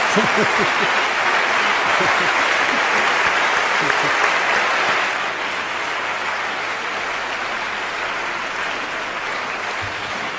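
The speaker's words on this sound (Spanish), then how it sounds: "esta ovación que te han dado" Loud, sustained audience ovation in a hall for a talk on medicinal plants, dense clapping that drops to a slightly lower level halfway through and carries on steadily, with voices faintly mixed in.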